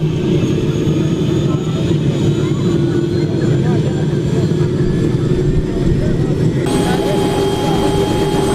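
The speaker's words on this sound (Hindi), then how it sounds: "हेलीकॉप्टर स्टार्ट हो चुका है।" A helicopter engine runs at a loud, steady roar with a high turbine whine as it prepares to lift off from Ladasar village, the sound close and continuous throughout.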